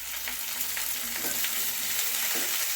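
Okra and curry leaves sauté in hot oil for a Chettinad vendaikai mandi, giving a steady, close sizzle and crackle with faint stirring scrapes and no talk.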